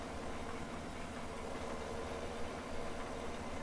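Tractor engine idling in Landwirtschafts-Simulator 17, a steady low diesel rumble with a pulsing, even rhythm, faint and unchanging, with no talk.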